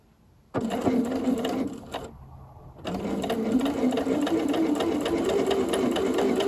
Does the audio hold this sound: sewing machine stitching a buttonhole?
yes